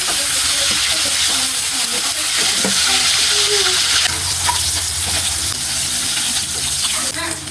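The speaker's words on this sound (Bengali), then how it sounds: "কড়াইয়ে তেল গরম হয়ে গেলে আমি একে একে সমস্ত মাছগুলো ঢেলে দিব" Fish fry in hot oil in a wok with a loud, continuous sizzling hiss and crackle, close to the pan and unbroken throughout, with faint kitchen clatter and no speech.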